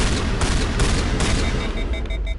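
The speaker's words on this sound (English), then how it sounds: "Let me use my shotgun." Shotgun blasts from Mass Effect in a dense, loud barrage of gunfire, several heavy booming shots in quick succession amid continuous combat noise, with no talk heard.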